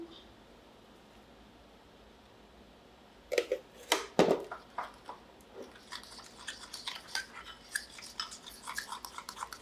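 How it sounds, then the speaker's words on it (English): Powdered sugar glaze is whisked in a bowl, starting after a quiet lead-in with a couple of louder knocks, then a run of quick scraping, tapping strokes at close range. "when you're whisking it, or you want to make sure that you're getting all of the lumps out of it"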